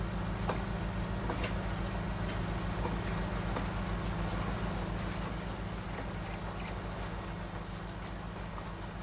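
A new tractor works a large field sowing sunflowers, its engine holding a steady, close, droning hum with faint ticking over it throughout.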